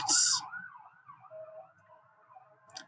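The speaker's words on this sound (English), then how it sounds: "Did you hear the sirens behind me? I heard the sirens." A brief siren wail at the start, then a fainter wavering siren tone continues in the background with low rumble.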